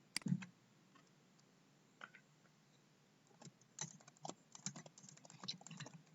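Light, quiet typing on a computer keyboard while entering text into a Google Sheets spreadsheet, with scattered key clicks at first that build into a quicker, denser run of tapping.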